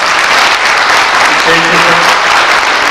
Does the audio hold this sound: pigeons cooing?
no